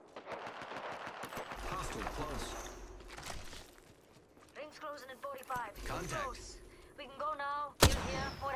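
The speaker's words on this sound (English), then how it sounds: "Being shot at. Getting shot at." Bursts of gunfire ring out in a firefight in Apex Legends, repeated rapid shots mixed with clattering effects, fairly faint, with voices talking over much of the fighting.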